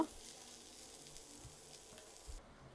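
Onions frying in a pan for a chicken bharta, a steady soft sizzle with faint stirring scrapes throughout, no voices.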